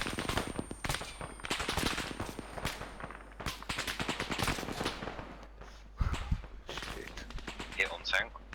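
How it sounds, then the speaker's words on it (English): Gunfire aimed at a tank in a military combat game, sharp shots and bursts cracking in rapid volleys across most of the stretch, loud and close, with voices talking over it. "Fire when ready. Firing now."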